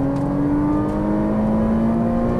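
A Ferrari 458 Italia engine accelerates on a racing track in Las Vegas, a loud, close, steadily rising high-pitched wail that holds for the whole stretch.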